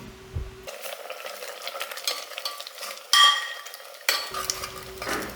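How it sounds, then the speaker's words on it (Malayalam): A spoon scrapes and stirs moringa leaves with chili and turmeric powder in a pan, with sizzling and light clinks of utensil against metal, close up. "ഇനി നല്ലപോലെ ഇളക്കി കൊടുത്ത്"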